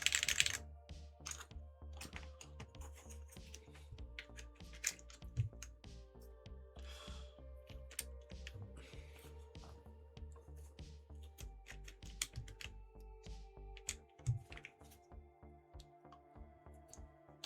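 A mechanical keyboard fitted with GMK Kaladny keycaps and an aged aluminum case is typed on in a steady stream of crisp, close keystrokes, with occasional louder clacks over faint background hum.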